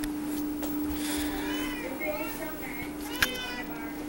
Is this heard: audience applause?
no